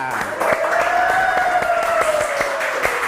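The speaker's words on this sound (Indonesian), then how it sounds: "Mari kita sambut dengan tepuk tangan" An audience at the Malang city UMKM Award 2025 claps to welcome a category winner, a steady patter of hands under a sustained tonal sound running through the whole short stretch.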